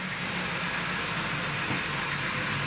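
A Wrenn W tank model locomotive pulling a small freight train runs along Tri-ang Super 4 mainline track, giving off a steady, even whirring rattle with no one speaking.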